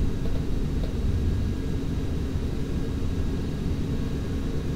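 Airliner taking off in Microsoft Flight Simulator X, a steady, loud low engine rumble with broadband roar that holds constant throughout, no voices over it.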